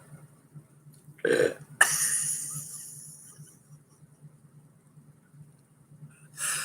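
A loud, close burp that stands alone against quiet background hum, with a second short belch-like sound at the end.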